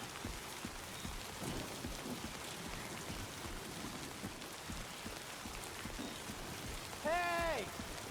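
Steady rain pattering on the ground in the video game Death Stranding 2, a soft, even hiss throughout with faint low rumbles and a brief voice near the end.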